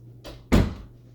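A door closing indoors: a short soft rustle, then one firm thud, close and clear over a low steady hum.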